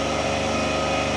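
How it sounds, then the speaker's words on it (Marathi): A small engine runs steadily at a science park car exhibit, a loud, close, even drone with a light high-pitched whine and no talking over it. "तिथं बघ इंजिन बघ कसं फिरतंय."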